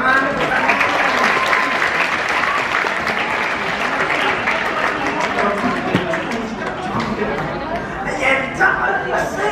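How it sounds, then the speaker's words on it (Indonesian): Audience clapping and crowd noise at a school comedy performance on the theme of corruption, loud and sustained, with chatter and voices mixed throughout. "tepuk tangan."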